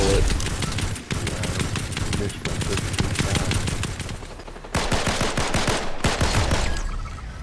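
Rapid automatic gunfire from a Fortnite match crackles in dense bursts, with short pauses between volleys and a near-continuous rattle of shots throughout.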